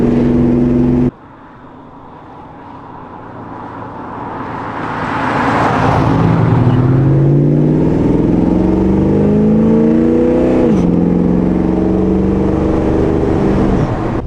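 A restored original hot rod car drives past close by, its engine revving and climbing through rising gear tones, loud and steady for over ten seconds with no talk.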